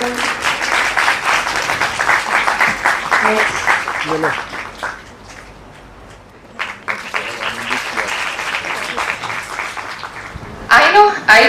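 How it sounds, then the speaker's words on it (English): Audience at a 2023 national conference clapping for guests invited to do the honors: loud, full applause that fades out midway, then resumes strongly after a short lull. A brief spoken word comes near the end. "Let's have a big round of applause."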